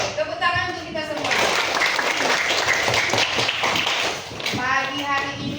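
Classroom of schoolchildren giving a round of applause, a few seconds of dense, lively clapping, with an adult voice speaking just before and after.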